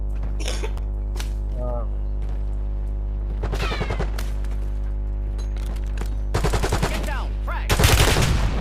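Video game gunfire crackles in bursts among in-game voice callouts and radio chatter, loudest in rapid volleys toward the end.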